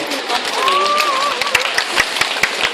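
Outdoor audience clapping at a street talk event on national security, a dense patter of claps with voices and a sustained shout over it.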